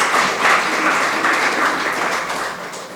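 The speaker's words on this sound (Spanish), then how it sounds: "Dele palmas al Señor, aleluya." Church congregation applauding during a Spanish-language worship service, a dense, even wash of many hands clapping together, fairly loud, holding steady and then tapering slightly near the end.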